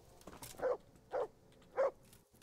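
A dog in Kingdom Come: Deliverance barks three times at steady intervals, each sharp woof standing out over a quiet background.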